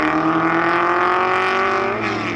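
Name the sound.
1962 Ferrari and 1958 Porsche racing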